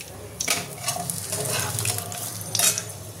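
Potatoes frying in a pan for a Bengali fish curry, with a soft sizzle under intermittent stirring scrapes and clinks of a utensil against the pan, fairly close and quiet.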